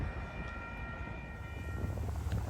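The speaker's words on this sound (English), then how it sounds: "this is Amtrak San Joaquin Train 713 to the Oakland Jet London Square, Oakland. Here it comes. F59 PHI." Amtrak San Joaquin Train 713, led by an F59PHI diesel locomotive, approaches at Eckley Pier near Crockett, California, a steady low engine rumble and rail noise holding level throughout with a faint high tone above.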